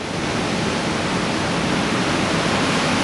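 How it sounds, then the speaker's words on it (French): Ocean surf at Anglet beach, with waves breaking in a steady, continuous broadband roar, loud and unbroken, with no voices. "il y a des vagues"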